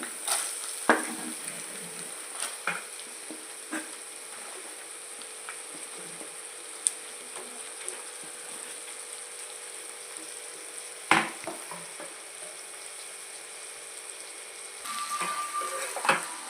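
Onions and green chilies frying in a pan with dried prawns, a constant soft sizzle with a few sharp scrapes and clinks of a spoon against the pan.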